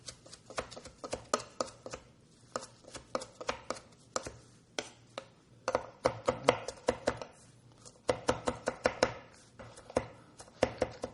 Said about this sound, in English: and I'm going to chop this up.